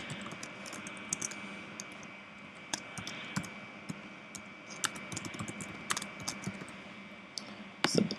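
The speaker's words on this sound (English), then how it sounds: "Now here, we type in some input." Keystrokes on a computer keyboard as input is typed into a web form, a steady run of light clicks with a few louder taps near the end, over a constant background hum and no talk.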